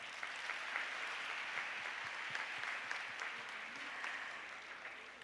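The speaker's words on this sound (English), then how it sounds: "You should clap louder for yourselves." Faint, steady applause from a crowd at a youth summit, an even wash of clapping heard from a distance with no voices over it.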